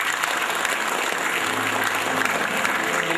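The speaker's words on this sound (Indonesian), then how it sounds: "Tepuk tangan dulu." Audience at a motivational talk breaks into applause, sustained crowd clapping at steady volume with a faint murmur of voices underneath.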